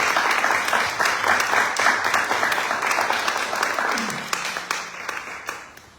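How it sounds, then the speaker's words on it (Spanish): Audience applause for the writers at a book presentation in a theatre-style room: dense, steady clapping from a crowd for about four seconds, then thinning out and fading toward the end. "Les pido un aplauso, por favor,"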